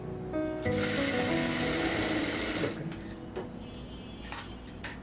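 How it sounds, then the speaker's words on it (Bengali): A sewing machine stitches a baby frock in a steady, rapid mechanical whir lasting a few seconds, then stops, leaving faint clicks and handling noises nearby. "আর অবশ্যই ধীরে সুস্থে সেলাই করতে হবে,"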